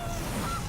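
A short, steady honking call from the Gilded Goose card in MTG Arena, a single goose-like honk heard alone at moderate volume.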